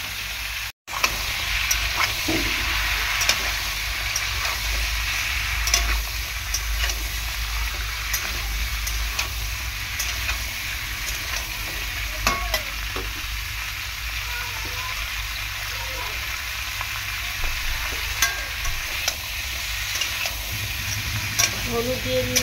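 Drumstick stems added to a frying pan of sautéed papaya, potato and tomato, stirred and sizzling loudly and continuously up close, with clattering stirring strokes throughout and no talking.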